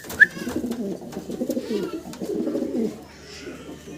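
Fancy pigeons coo and call close by, with a bright call near the start followed by steady low murmuring coos that continue for several seconds.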